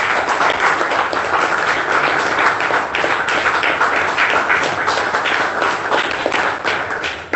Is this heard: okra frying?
no